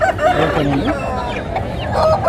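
Roosters at a village country-chicken market in Savaravilli, Bhogapuram, Vizianagaram crow and cluck loudly and close, with several overlapping calls filling the whole moment.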